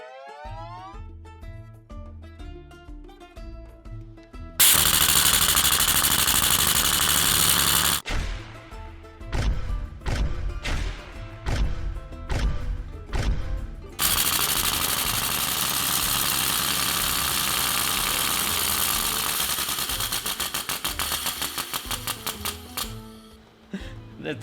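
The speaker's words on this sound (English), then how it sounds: "The engine is actually running pretty well" A 3D printed liquid piston engine runs with rapid, clattering pulses that shift between sparse ticking and dense, loud sustained stretches of rhythmic firing, close to the listener.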